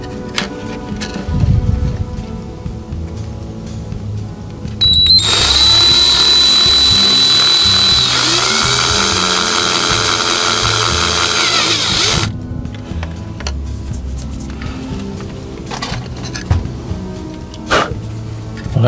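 A power drill whines steadily for several seconds while boring through the floor of a scratch-built model signal box, loud and close, then stops; quieter handling noises before and after.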